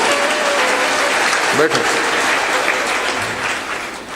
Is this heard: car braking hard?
no